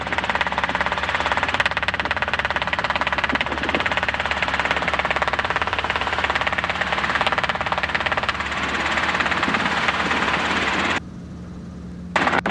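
A helicopter at a flight school spools up for takeoff, its engine and rotor holding a steady, loud, dense roar that runs near and constant throughout, then drops to a thinner hum near the end.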